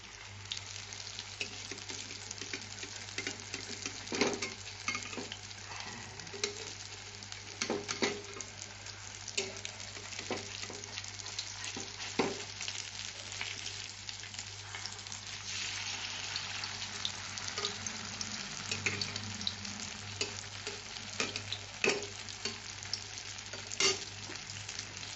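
Gokul pithe sizzle and fry in oil in a pan, a steady, close crackling hiss with small pops running throughout, and no voices.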